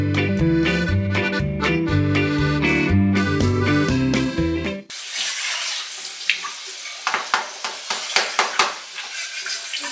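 Lentils, coconut, peanuts and curry leaves roasting in a pan give a steady, near sizzling hiss with light scraping and stirring clicks, following a stretch of music.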